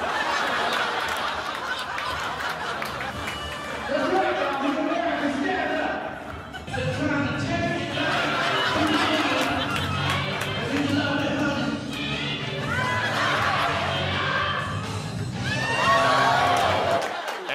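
A crowd at a political rally in Anchorage, Alaska, warmed up by a James Brown impersonator, cheers, laughs and whoops in a steady, dense roar that swells near the end, with voices talking through it.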